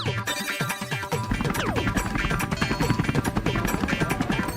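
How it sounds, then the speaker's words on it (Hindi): A cartoon helicopter in an animated desi comedy lifts off. After a short, busier opening, a steady, rhythmic rotor chop settles in, loud and cluttered with other layered sound effects. "अरे वाह, हेलीकॉप्टर उड़ने लगा।"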